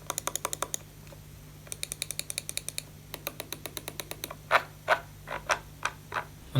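An older Razer Basilisk gaming mouse clicks in quick bursts of rapid sharp ticks. Slower, louder single clicks follow, close and isolated in a quiet room.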